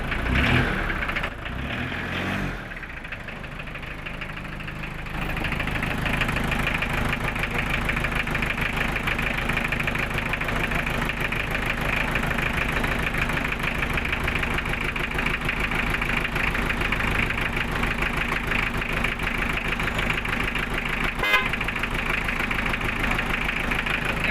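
An owner-type jeep's engine starts, then settles into a steady, loud, rough idle that runs throughout, close by.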